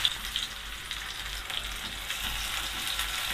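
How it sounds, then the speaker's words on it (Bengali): Chopped onions fry in about two tablespoons of hot oil in a pan, giving a steady close hiss and crackle with a few soft stirring scrapes, no voices. "পেঁয়াজগুলোকে হালকা লাল করে ভেজে নিব"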